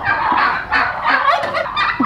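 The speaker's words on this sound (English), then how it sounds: "here are the turkeys" Farm turkeys gobble loudly and close by in repeated rattling bursts that overlap one another, with no talking.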